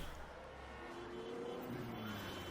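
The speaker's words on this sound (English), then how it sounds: "The streets are filling up with people on their way to work. There is traffic." City street traffic in the morning, with cars passing at moderate distance in a faint, continuous rolling hum and one engine note rising and falling as it goes by.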